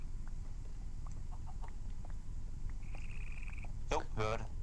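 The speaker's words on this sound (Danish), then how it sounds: "Der er en kylling mere, der har lagt et æg." A chicken clucking in the Minecraft Tekkit video game, faint short clucks over a low background hum, followed by a louder burst near the end.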